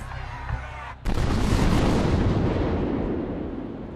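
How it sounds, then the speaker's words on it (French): A cannon salvo celebrating a victory in 1789 Paris booms out as a sudden heavy blast, followed by a long rumbling decay that fades over several seconds after a moment of speech. "sous une salve de canon qui fête la victoire des Parisiennes"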